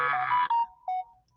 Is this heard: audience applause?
no